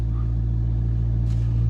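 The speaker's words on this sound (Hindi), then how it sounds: "भाई फिर से अपनी जो है स्कॉर्पियो निकल रही है" A Mahindra Scorpio N diesel automatic and a Maruti Swift accelerating side by side in a drag race, a loud steady low engine drone heard from inside the cabin.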